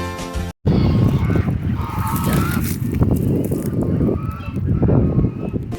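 Geese honk loudly and repeatedly close by at a farm near Saputara, Gujarat, a noisy chorus of overlapping calls that continues throughout.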